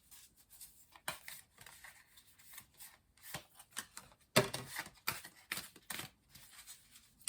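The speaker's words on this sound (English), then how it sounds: "So weird shuffling these cards here." Tarot cards being shuffled by hand, a steady run of soft riffling and flicking bursts with a sharper snap midway, close and fairly quiet with no talking.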